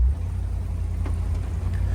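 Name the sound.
1975 Pontiac Grandville 400 engine idling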